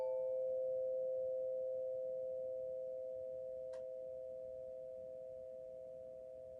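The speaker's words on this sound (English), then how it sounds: "Allow yourself to listen to the bell from beginning to end" A meditation bell holds a steady, pure ringing tone that slowly fades over several seconds, heard alone in a quiet space with a faint tick partway through.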